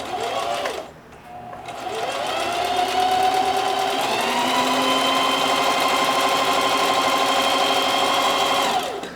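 A sewing machine stitches through denim in a long continuous run, its fast steady whir close and loud after a brief pause and restart near the start.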